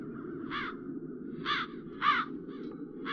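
Crows in the video game The Dark Eye: Chains of Satinav let out four harsh, separate caws at uneven intervals over a low, steady ambient hum.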